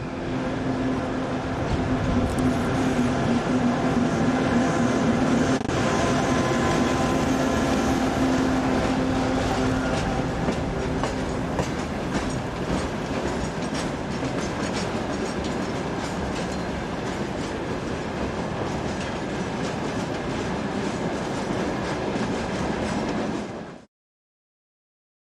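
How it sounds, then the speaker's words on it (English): A CHME-3 diesel locomotive hauls a freight train at Radviliskis, a steady rumbling engine drone with rolling wagon clatter and repeated wheel clicks, continuous and fairly near, then cutting off abruptly. "the CHME-3 is seen on a trip freight between the two main marshalling yards"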